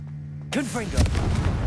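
A Confringo fire spell blast in Hogwarts Legacy, cast at a giant spider, bursts in suddenly after near-silence as a loud, close boom with crackling fiery tail, while a voice speaks over it.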